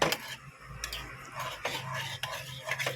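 A spoon stirs yogurt into a curry in a pan over a low flame, scraping and clinking against the metal in short, irregular strokes at close range, with faint rustling between the strokes.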